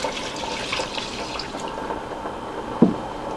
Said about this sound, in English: And the water.